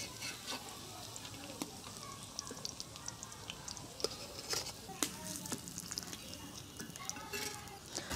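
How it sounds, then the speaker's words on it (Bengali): A potato snack deep-frying in oil, giving a dense, steady sizzle and bubbling with occasional sharper crackles and utensil taps throughout. "হালকা আছে খুব সুন্দর করে ভেজে নেবেন, ব্রাউন কালার করে।"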